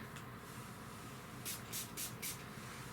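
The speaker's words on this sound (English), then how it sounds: "Now I'm just going to spray my brush and kind of clean off some of the pink." Sephora Refresh Daily Brush Cleaner is sprayed onto a makeup brush in four quick, soft pump bursts close by, heard against a faint room hiss.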